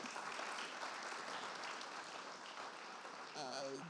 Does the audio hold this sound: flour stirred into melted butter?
no